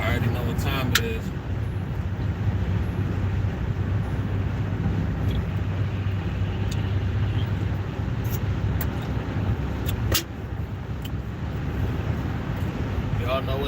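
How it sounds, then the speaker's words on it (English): A car driving along a road on the way to work, with steady low engine and road rumble throughout and someone talking over it. "Driving to work."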